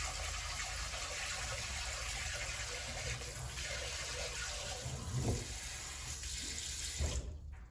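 Water runs steadily from a Gaomasck kitchen sink faucet sprayer, a constant close hiss with a brief splashing change partway through before the flow cuts off near the end.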